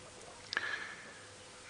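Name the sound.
birds calling in the distance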